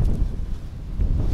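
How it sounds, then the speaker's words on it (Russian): Strong wind by the sea during a storm rumbles and buffets in low, uneven gusts close to the microphone, with no talk. "Послушайте, как завывает ветер"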